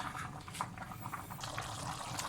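Cooking water poured off boiled, three-quarters-cooked potatoes into a sink, a steady close splashing pour with brief drips and gurgles, no talk.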